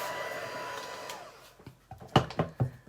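A hair dryer blows over a piece of air dry clay, its steady whoosh fading out after about a second and a half, followed by a few soft knocks and handling sounds.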